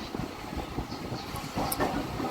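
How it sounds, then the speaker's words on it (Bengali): An electric local train rolls into Tarakeswar terminus station in West Bengal, a continuous rumbling of wheels and carriages with a brief hiss, heard from inside the train at moderate level. "আমাদের ট্রেন পৌঁছে গেল যাত্রাপথের অন্তিম স্টেশন তারকেশ্বরে"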